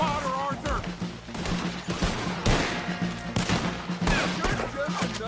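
A Red Dead Redemption 2 battle, with a cannon on a hill, rings with heavy overlapping gunfire, loud volleys and booms in quick succession, while voices shout over the shooting.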